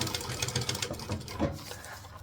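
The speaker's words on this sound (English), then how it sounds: "You can also do it as a back stitching moment if your machine is comfortable doing back stitching." A sewing machine back stitching while sewing a bag: a close, rapid, rhythmic mechanical chatter of needle strokes with no talking.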